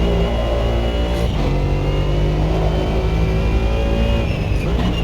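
A racing car engine in a racing video game revs steadily at high pitch through gear changes, loud and continuous, with a smooth droning tone that shifts slightly as gears change, no voices.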